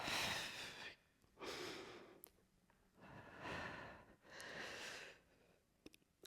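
Heavy rhythmic breaths during a full-body barbell or weight lift, each long inhale and exhale rising and fading in turn, close and fairly loud, with a few short clicks between them and no talking.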